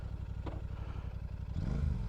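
A motorcycle fitted with Enfield Precision end cans idles with a low, steady exhaust rumble, a brief metallic clatter early on and a slightly louder burst of throttle toward the end.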